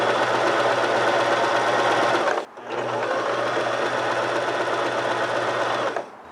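A sewing machine runs fast and steady with a dense, even mechanical whir, pausing briefly once before resuming at the same close, loud pace.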